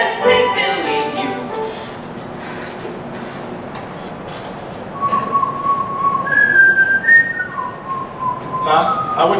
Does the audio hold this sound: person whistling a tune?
yes